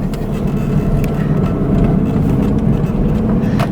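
A Porsche Cayman S 981 mid-engine car is driven on the road, its engine a steady, fairly loud low hum with road rumble, with occasional faint clicks over the drone.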